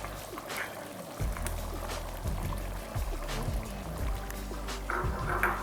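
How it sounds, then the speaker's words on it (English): Blended okra is poured into a soup pot, giving thick, wet glugging and sloshing sounds in uneven bursts close by, with faint background clatter and little talk. "Now it's time to add my blended okra."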